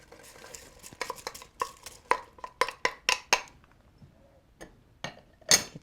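Carrots and green cabbage go into a soup pot of mung bean soup, heard as a series of irregular clinks, scrapes and knocks of a utensil against metal, fairly close and spaced out, with a short quiet spell near the end.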